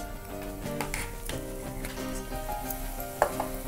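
Minced keema and onions frying in a pan for methi keema, a steady close sizzle with a few stirring scrapes and clinks, no talk.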